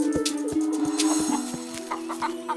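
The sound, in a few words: chickens clucking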